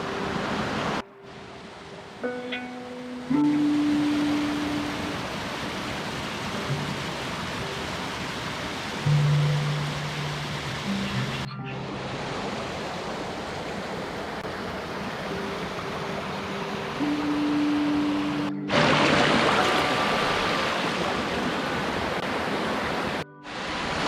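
A small stream near an aqueduct in Malayattoor runs in a steady, broad rush that holds level throughout, with a few brief cuts and faint tonal sounds surfacing over the flow.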